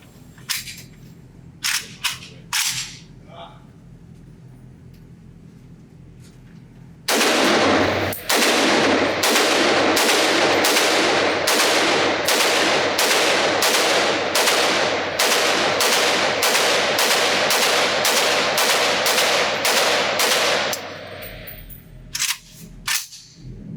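A Zastava ZPAP M70 AK rifle firing one magazine at an outdoor range: a few isolated shots first, then a long evenly spaced string of loud, sharp reports with ringing tails, ending in a brief lull.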